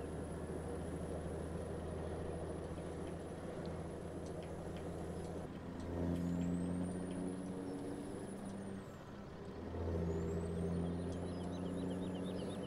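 A heavy truck engine in Farming Simulator 17 drones loudly and steadily as it hauls uphill, its low rumble swelling twice with rising whining tones and a rhythmic ticking layered over the continuous engine noise.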